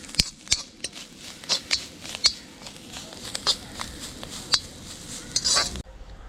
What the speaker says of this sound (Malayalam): നമുക്ക് കുറച്ച് കറിവേപ്പില കൂടി ഇട്ടിട്ട് വറുത്തെടുക്കാം.